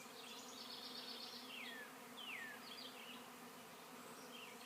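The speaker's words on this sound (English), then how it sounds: "And now the whole swarm is here." A honeybee swarm gathers at a swarm trap, giving a steady, dense buzzing hum that fills the whole stretch alongside occasional faint bird chirps.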